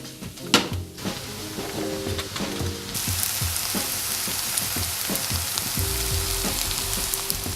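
Shiitake mushrooms hit onions frying in vegetable oil, with a few clinks and stirring knocks, then a steady, loud sizzle that holds to the end.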